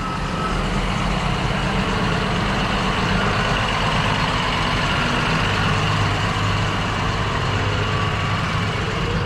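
A Claas tractor engine idling, a steady, unbroken low rumble with a broad mechanical hum that holds at an even loudness throughout and has no voices over it.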